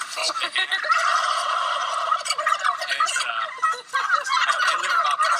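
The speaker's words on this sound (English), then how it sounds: "These turkeys live the good life" Free-range turkeys on a farm gobble in a loud, continuous chorus, with many birds overlapping up close.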